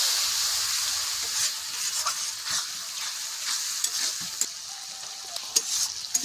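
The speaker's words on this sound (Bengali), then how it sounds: "এবার আমি ভালো করে মশলাটা কষিয়ে নেব" Spices including garam masala fry with chicken in a pan as they are stirred, giving a steady sizzle broken by scraping stirring strokes at close range, with no voices.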